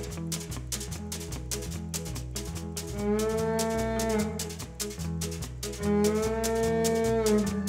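A low, drawn-out moo imitating an old cow, most likely played on an instrument rather than voiced, rises twice over a steady, loud rhythmic country-music backing during a live stage show.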